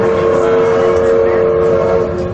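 A train pulling out of a station, with a loud, steady rumble and a sustained tonal whistle or horn drone throughout, close by, with no talking.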